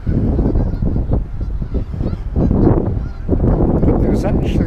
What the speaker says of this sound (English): You watch all these geese fly off.